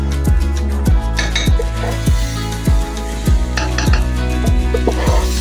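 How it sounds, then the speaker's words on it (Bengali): Rice, lentils and potato stir-fried in a pan, a spoon scraping the base in steady repeated strokes over a constant close sizzle, with occasional light metal clinks. "এখন আমি খুব সুন্দর করে কষিয়ে নেব।"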